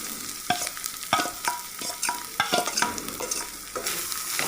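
Jackfruit seeds frying with browned onions in a pan, stirred with a utensil that scrapes and clatters in a steady rhythm over a constant close sizzle, with no talk.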